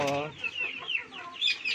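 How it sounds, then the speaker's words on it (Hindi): Aseel chickens cluck and chatter nearby in quick, uneven bursts, with a brief low voice at the start. "ये असील मुर्गे है"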